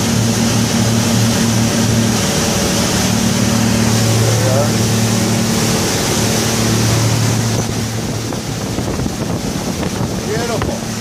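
A 1993 Blackfin 29 Combi powered by twin Yamaha 250 four-stroke outboards runs at about 24 knots through a circling U-turn. The engines hum low and steady under heavy wind buffeting and rushing water, with no speech.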